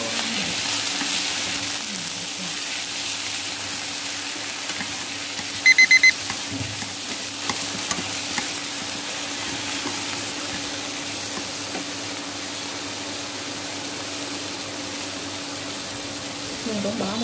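Tomatoes frying in a pan while cooking Vietnamese tuna noodle soup, a steady soft sizzle running throughout at moderate level, with brief clinks of utensils and faint talk in the background.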